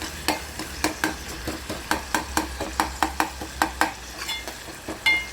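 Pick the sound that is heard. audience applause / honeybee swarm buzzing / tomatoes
tomatoes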